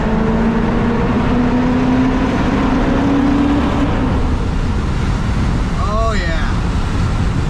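A BMW 540 engine pulls through a tunnel in fourth gear, a droning tone climbing in pitch for several seconds before fading into a reverberant rush of road and wind noise, with a brief spoken exclamation.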